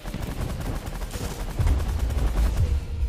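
Minigun fire from The Last Federation space strategy video game: a continuous rattling stream of rapid shots with heavier bursts toward the end, steady and fairly loud.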